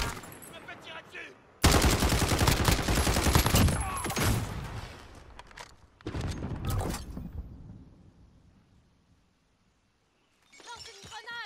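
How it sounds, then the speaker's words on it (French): Loud bursts of automatic gunfire crackle in Call of Duty Modern Warfare, one long volley then a shorter one, each trailing off into quiet before a voice speaks briefly at the end. "Je me fais tirer dessus!"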